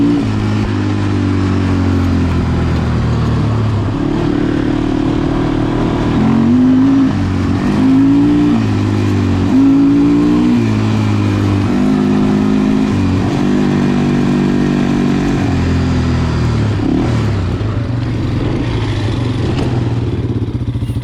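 A Yamaha 350 Warrior ATV engine pulls hard on a trail, revving up and down steadily through the gears with a loud, close, continuous throaty drone and no talking.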